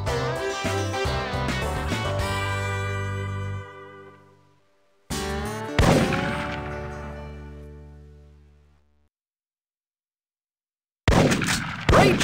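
Loud booming gunshots from Big Buck Hunter Pro bison hunting, three separate blasts, each followed by a long ringing decay into silence.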